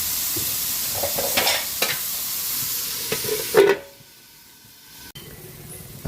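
Frozen ground pork frying in a pan; a steady sizzle with stirring scrapes that cuts off sharply as a lid goes on, leaving a muffled low hiss under the cover.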